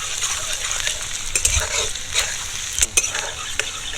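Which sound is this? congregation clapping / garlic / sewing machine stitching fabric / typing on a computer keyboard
garlic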